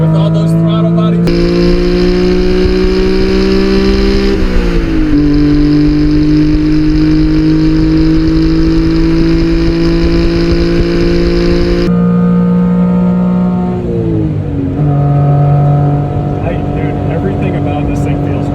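A Honda Beat kei car engine fitted with individual throttle bodies revs and holds high, droning loudly up through the gears with brief drops at each shift, heard close from inside the car.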